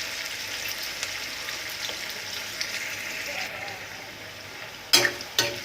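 Onions fry in oil in a pan for poha, giving a faint steady sizzle with soft hiss close by, then a couple of sharp clatters near the end.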